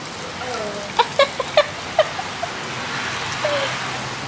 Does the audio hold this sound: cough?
no